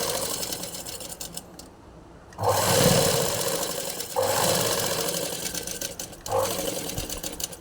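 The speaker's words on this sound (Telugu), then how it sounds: "ఇంకో సైడ్ ఏమో ఈ విధంగా స్టిచ్చింగ్ అయితే వేసుకోవాలి" A sewing machine stitches piping onto a blouse in three loud, close bursts of rapid mechanical whirring, broken by short pauses.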